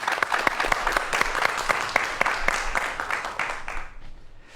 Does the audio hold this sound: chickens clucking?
no